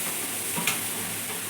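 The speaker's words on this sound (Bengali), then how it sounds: "প্রথমে আমি নারিকেলটা ভাজা করব।" Grated coconut fries in a pan for sweet milk puli, giving a steady close sizzling hiss with one brief tap partway through.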